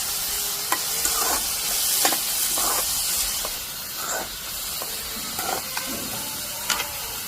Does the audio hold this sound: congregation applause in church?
no